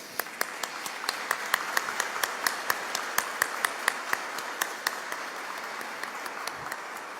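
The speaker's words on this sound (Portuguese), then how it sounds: "mas eles merecem as nossas palmas" Sparse applause from a small congregation at the opening Mass of a patron saint's feast, with distinct individual claps rising to a steady patter and then thinning out, moderately distant in a reverberant church.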